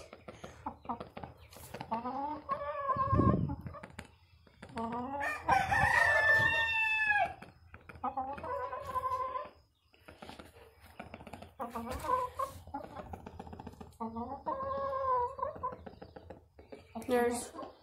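Hens squawk and cluck repeatedly and a rooster crows on a farmstead, close and fairly loud, with calls coming in bursts across a long stretch and a person talking in between.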